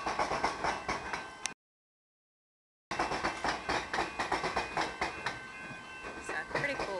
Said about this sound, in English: We'll stand here for a minute and listen to this obnoxious noise and watch the train go by.